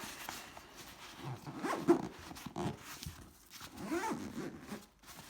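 A zipper is pulled along a Peak Design Everyday Sling V2 bag packed with Fuji camera gear, giving several close, scratchy zipping runs with short pauses between them.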